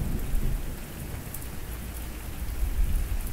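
Steady heavy rain with rumbling thunder in the Sos Survival video game, a dense continuous hiss with low booms swelling near the start and end, no voices.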